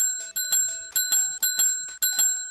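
A front desk service bell in the Roblox game Dress to Impress dings about five times in a quick, uneven series, each strike bright and ringing with a short decay, close and clear without talking.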